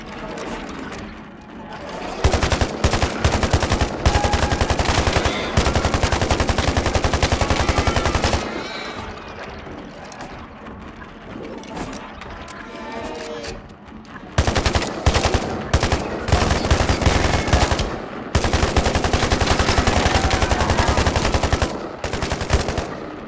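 Dense bursts of automatic gunfire from the video game Phantom Line, set in Soviet-era Poland, come loud and close in long sustained volleys with a quieter gap in the middle, and a voice speaks briefly.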